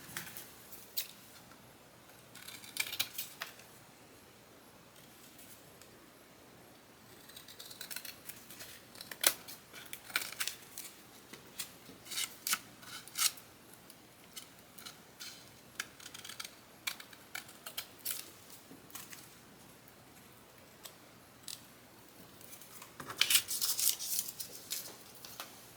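Scissors trim a layer of a paper craft recipe card pocket, making a run of small crisp snips and clicks at close range, fairly quiet, with no voices.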